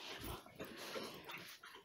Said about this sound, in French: Vous avez vu, c'est les chiens.